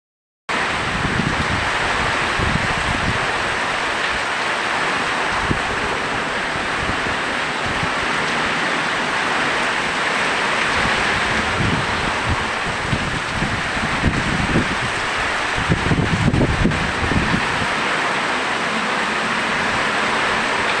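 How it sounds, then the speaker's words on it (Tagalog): Heavy rain driven by strong wind during a typhoon in the Bicol region of the Philippines, a steady loud roar of downpour and gusts continuing without pause, with surges of buffeting wind noise. "Napakalakas talaga ng ulan."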